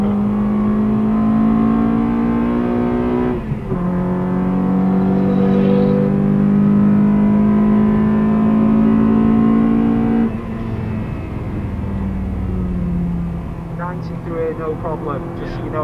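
A Honda Accord Type R's engine revs up in long, rising pulls with a gear change, loud and close from inside the car, its tone sliding between steady notes while a voice talks over it.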